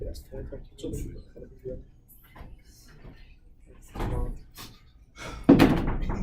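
Someone pulls hard on a door that is not locked, and it rattles and thunks in its frame with louder bangs toward the end, while several people talk over it.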